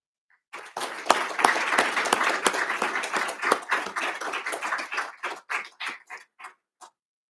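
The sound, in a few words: audience applause at awards ceremony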